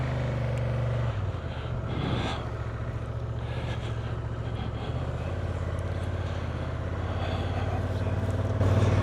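A black 2025 Honda Transalp 750 motorcycle rides along with a steady, droning engine, gears shifting as it pulls away, wind rush heavy over the engine note.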